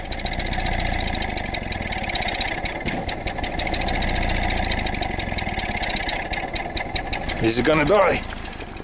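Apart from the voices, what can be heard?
hydrogen-fueled engine idling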